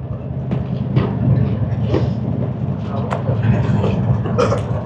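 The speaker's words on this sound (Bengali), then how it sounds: "এখন আমাদের ট্রেন হাই স্পিডে যাচ্ছে" Steady rumble of the Shatabdi Express Vistadome coach running at high speed between New Jalpaiguri and Howrah, a continuous low roar with faint rhythmic clatter and occasional brighter knocks, heard from inside with voices murmuring underneath.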